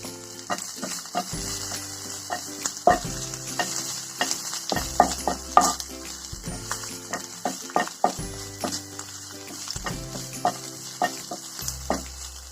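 Green chillies fry in hot oil with a continuous close sizzle while a spatula repeatedly scrapes and stirs them in the pan, with no voices.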